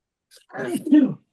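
One sneeze close by, a quick breathy intake followed by a sharp burst, alone in an otherwise quiet moment.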